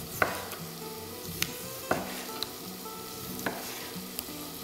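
Meat sizzles steadily in a hot pan for mushroom soup, with periodic sharp clacks of a utensil stirring and scraping through the pieces, close and alone with no voices.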